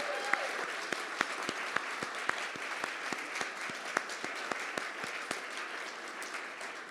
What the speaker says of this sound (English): Can we give them all another big round of applause?